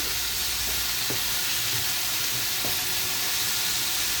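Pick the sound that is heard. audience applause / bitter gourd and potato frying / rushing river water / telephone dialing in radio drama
bitter gourd and potato frying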